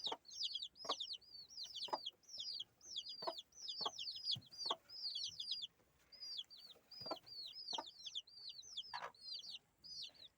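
A broody hen with five chicks in a farmyard gives soft, low clucks in irregular pairs while the chicks keep up a constant shrill peeping chorus throughout, quiet and close.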